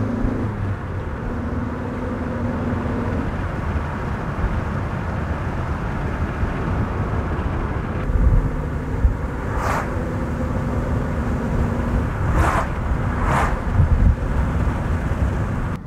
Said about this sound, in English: so you can hear the wind buffeting.